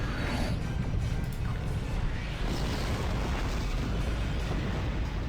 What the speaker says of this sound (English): A nice 50k Tetrion torpedo to destroy me.